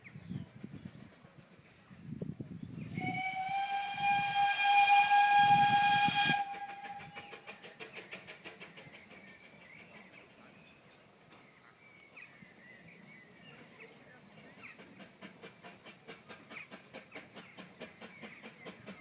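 A steam train on the Vale line arriving at a station, opening with a loud, sustained whistle blast over chuffing, then steady rhythmic clickety-clack of wheels on rails as it rolls in, moderately near with no talk.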